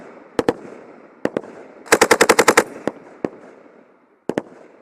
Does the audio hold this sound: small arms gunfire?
yes